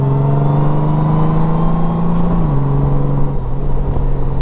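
A 2019 Honda Goldwing DCT trike engine accelerates, heard as a loud, close, steady drone whose pitch climbs and then dips twice as it shifts, with wind roar and no talking.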